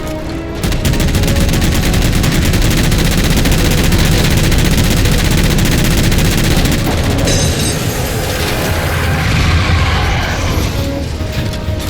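Sustained heavy automatic gunfire from a Halo 4 battle against jammers rattles on loud and continuous for the whole stretch, with dense bursts and booming impacts layered over one another.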